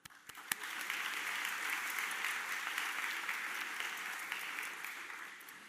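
An audience at a high school graduation ceremony breaks into sustained applause, a dense field of clapping that swells quickly and then holds steady before slowly easing off.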